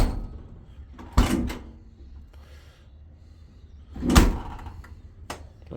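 A van's rear door, whose back end sits out when shut, closes with two loud bangs about three seconds apart, each followed by a short rattle, against a quiet background with no talk.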